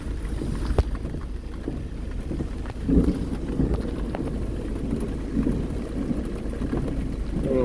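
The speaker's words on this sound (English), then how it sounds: "Somewhere in the rain" Steady rain drums on a car while driving, a dense, even wash of patter and road rumble with a few louder gusts, continuous throughout with no voices.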